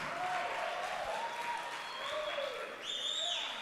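A church congregation claps throughout, a dense steady patter of many hands under a preacher's voice and faint music.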